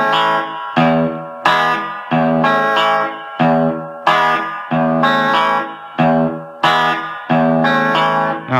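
Clean electric guitar riff with no echo, a repeating picked phrase with sharp attacks, about ten quick, rhythmic note bursts that decay between hits, loud and close with no speech.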